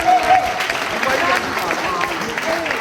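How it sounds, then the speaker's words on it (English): Steady audience applause and clapping fills the space, with a voice speaking over the crowd noise, at a hypnosis show during a wedding. "Give them a round of applause"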